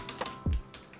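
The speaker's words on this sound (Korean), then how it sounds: "F10 누르고 엔터" A few key presses tap on a computer keyboard, F10 then Enter during RAM overclocking in the BIOS of an ASUS Z490 APEX board, with light clicks and one heavier thump.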